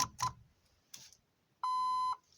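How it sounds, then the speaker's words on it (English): A Mazda 626 daytime running light module gives one short, clean electronic beep, preceded by a few faint clicks and taps in an otherwise quiet space. "1 short beep."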